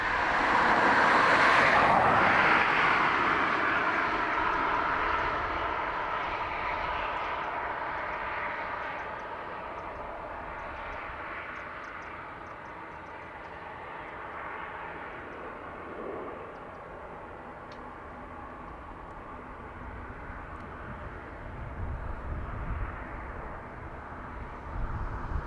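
A jet airliner heading for Heathrow departs a Dublin Airport runway, its engine roar loudest at the very start and then fading steadily into a low, distant rumble.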